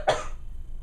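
A single sharp cough bursts out close by, followed by a quiet tail of room noise, with no talk over it.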